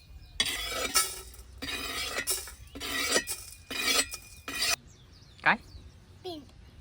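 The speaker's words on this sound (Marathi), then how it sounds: "खडे मसाले आता भाजून घेते" Whole spices are dry-roasted in a pan, heard as bursts of rough scraping and rattling as they are stirred and tossed, close and fairly loud, followed by a brief voice near the end.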